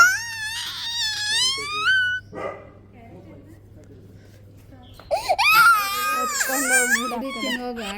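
A young child wails in high, tearful bursts, loud and close, with a quieter gap of a few seconds between two crying spells over a low steady hum.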